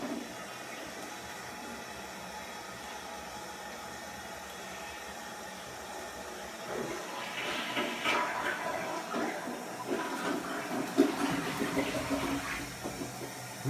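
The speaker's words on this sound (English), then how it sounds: "What are you trying to flush?" A household toilet flushes during a child's potty training: after a quiet stretch, rushing water swells up and churns at moderate volume close by, continuing through to the end.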